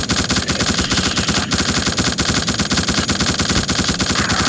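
A heavy automatic gun blazing in the video game The Suffering: a loud, unbroken stream of rapid shots that fills the whole stretch, steady and close.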